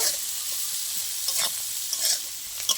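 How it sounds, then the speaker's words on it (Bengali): Chopped onions and green chillies fry and get stirred in a pan for a katla fish-head and winter-vegetable curry, with a steady bright sizzle broken by a few scraping stirs of the spatula, close and alone. "এবার সব ভালো করে আমি একটু ভেজে নেব"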